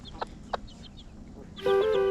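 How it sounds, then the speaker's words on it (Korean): A former battery-cage hen named Sunny and her chicks out in a sunny yard: soft, sparse clucks early on, then a louder burst of bright, rising chirps and clucking near the end, no speech. "써니와 그녀의 이쁜 병아리들이 처음으로 세상 밖으로 나온다."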